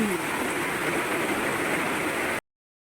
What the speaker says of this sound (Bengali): দেখো কি বৃষ্টি পড়ে আর এদিক দিয়ে জল পড়ছে কেমন দেখো অসম্ভব বৃষ্টি